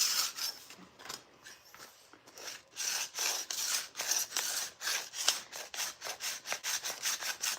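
A file rasping across a chainsaw chain in a garage, steady rhythmic back-and-forth strokes, close and fairly quiet, with no talk.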